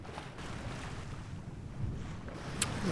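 A sailboat moves under sail in steady trade winds, with a constant wash of wind and water rushing past, faint and even, with buffeting on the microphone and no speech.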